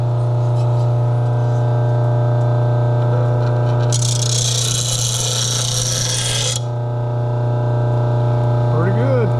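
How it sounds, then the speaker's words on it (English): A wall-mounted RBG712 blade sharpener grinds an old Honda lawn mower blade over a constant motor hum, with a loud, bright grinding pass lasting about three seconds midway, then the motor running on alone. "Let's fire this thing up and see how she's gonna cut"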